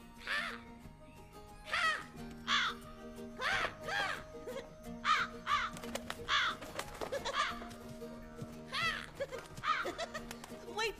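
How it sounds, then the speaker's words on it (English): A crow caws again and again in a cartoon scene, a series of harsh caws at a steady pace, loud and near, with talk between the calls. "Where are you going, Crow?"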